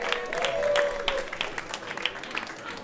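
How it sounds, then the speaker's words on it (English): A live audience at a craft beer and classical music event claps for a contestant, the applause swelling briefly and then thinning into scattered claps, with some voices mixed in. "We have another round of applause for Shannon."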